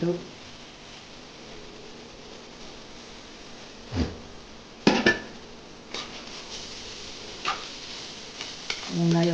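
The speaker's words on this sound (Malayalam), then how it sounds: "ഇനി നമുക്ക് കാബേജ് കാബേജ് ഇടാം" Cabbage tossed into a pan for egg chow mein and stirred with a spatula, soft background sizzle broken by a few sharp clatters and scrapes of utensil against the pan.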